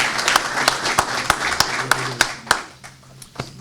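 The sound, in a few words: audience applause for award recipient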